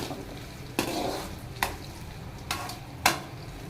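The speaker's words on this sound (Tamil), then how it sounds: "நல்லா வதங்கட்டும் அப்புறம் நல்லா வதங்கி வரட்டும்" Tamarind and vinegar masala being sautéed in a pan for Kerala-style fish pickle, with a low background sizzle broken by four distinct scraping stirs of a spoon against the pan, spaced roughly a second apart.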